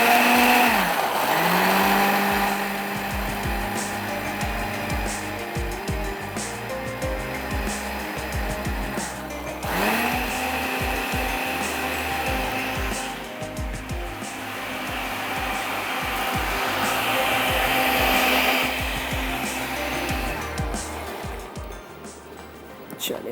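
An electric blender grinds browned onion and spices for a meat curry, its motor whirring loudly and steadily for the whole stretch, with the pitch dropping and surging at two points as the load shifts.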